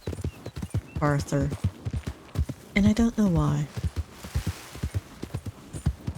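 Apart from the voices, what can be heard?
few spotted Appaloosa horse hooves in video game Red Dead Redemption 2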